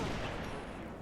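Gunfire in Halo: The Master Chief Collection, a dense burst of rapid shots and echoing reports that fades slightly toward the end, with no talk over it.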